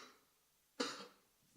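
A person coughs once, a single sharp burst close to the mic that fades over a fraction of a second, set in a quiet church service.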